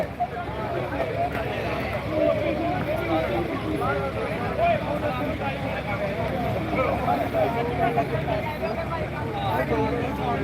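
A tractor hauls a trolley at a tractor-trolley pulling contest in a Punjab village, its engine a dense, steady roar that runs without a break and mixes with crowd hubbub.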